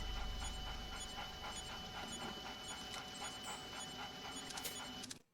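A dog panting rapidly in a steady, even rhythm, close and quiet, continuing for several seconds before cutting off abruptly.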